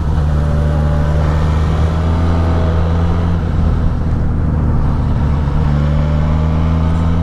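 A motorcycle that has sat unused for a while rides through traffic, its engine producing a steady, loud drone with constant hum and wind noise and no clear gear changes.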